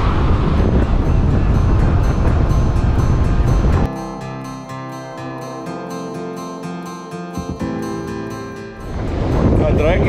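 Heavy wind from a strong southeaster buffets the microphone in loud roaring gusts on a rock and surf fishing shore, easing for a few seconds before surging back strongly.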